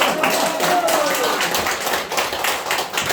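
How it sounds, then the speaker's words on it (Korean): Audience applause at an indoor event, a burst of scattered clapping from a modest crowd with some individual claps standing out and murmuring voices underneath. "박수 한번 드세요"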